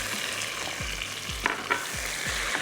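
Tomatoes hit frying garlic in a pan and sizzle steadily close up, with repeated stirring scrapes punctuating the hiss.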